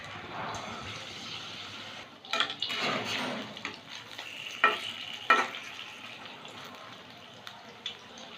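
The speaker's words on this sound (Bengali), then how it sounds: "ডিমগুলো ভেজে নেব" Batter-coated eggs frying in hot oil in a wok, a quiet steady sizzle with a few louder bursts and clinks as they are moved, no speech.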